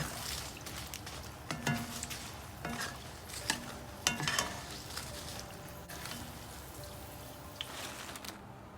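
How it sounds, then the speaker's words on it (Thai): Chilies fry in hot oil already used for frying shallots, a soft steady sizzle broken by repeated clinks and scrapes of a spatula stirring against the pan, with no voices. "เราก็จะมาทอดพริกต่อค่ะ"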